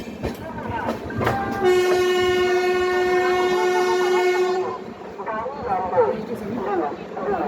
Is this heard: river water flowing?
no